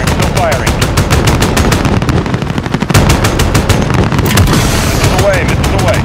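Helicopter gunship cannon fire in the Call of Duty: Modern Warfare campaign, a loud continuous rapid burst of gunfire running the whole time with only a brief dip midway, with radio voices talking over it.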